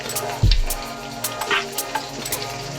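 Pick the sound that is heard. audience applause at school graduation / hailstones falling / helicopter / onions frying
onions frying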